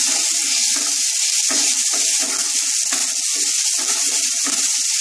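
Ginger paste frying in a pan, a steady loud hiss and sizzle running throughout, with faint low crackles and a quiet voice talking underneath.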